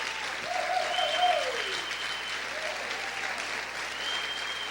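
A church congregation claps steadily during a worship service, a dense, moderate wash of applause heard from a distance with a faint tonal sound drifting over it.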